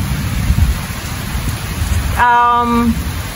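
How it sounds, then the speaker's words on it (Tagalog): Steady rain, with low rumbling like thunder, playing within a children's song, a constant close hiss with a brief sung or whistled tone rising over it near the end. "It's a kid's song, but so you hear the sound, the thunder sound."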